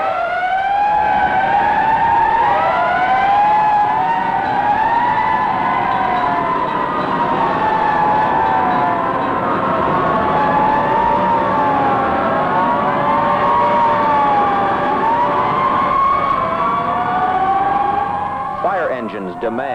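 Several fire engine sirens wail on a city street in 1960, their rising and falling sweeps overlapping loudly and continuously for about twenty seconds, with no pause.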